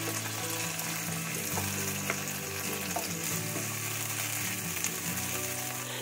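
Onions sauté in a pan with a dense, steady sizzle, close and loud, over soft tonal background music, with faint stirring scrapes now and then.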